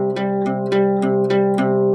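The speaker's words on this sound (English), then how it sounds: "Without palm muting, everything sounds like this." An unmuted guitar chord strummed with a pick, struck about five times in an even rhythm, each strum ringing on with sustained harmonics between strokes; close and clear with no talking.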